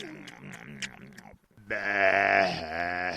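A sheep bleats in a long, loud, wavering cry that swells and holds near the mic, after a stretch of lower voiced bleating sounds and a brief pause, in a dramatized story about the Dragon of Krakow.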